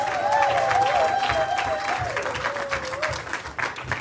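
Wedding congregation at a religious ceremony applauding steadily for several seconds, a dense wash of clapping hands with a soft melodic tone running beneath.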